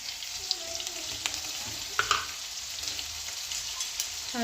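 Onions frying in a pan with turmeric just added, a steady low sizzle with faint scraping stirs and a few soft clicks, no voices.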